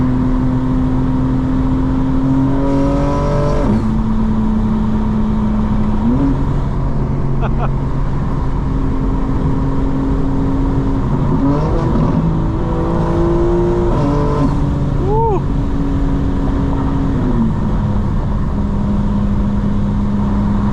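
A 2025 BMW M4 Competition engine climbs steadily through revs from the driver's seat at night, with several distinct shifts dropping the pitch before it builds again, loud and continuous under a talking driver.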